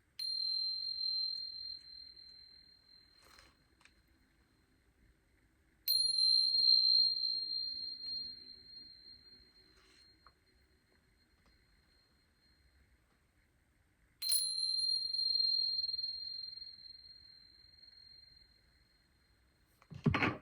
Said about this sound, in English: I will just start by using these Tibetan chimes.